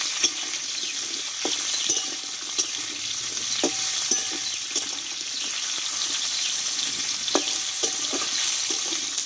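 Drumstick stems stir-fried in a pan, with a continuous hiss of sizzling oil and scattered soft clicks and scrapes of a spatula stirring throughout.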